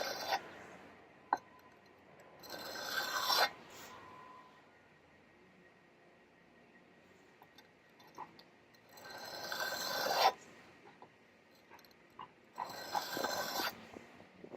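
A blade is sharpened on sandpaper glued flat to a surface, giving three separate bursts of rasping, scraping strokes with quiet pauses between them, close and moderately loud.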